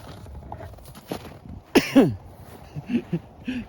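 A couple of quick coughs close by around the middle, with soft shuffling and light background noise before and after.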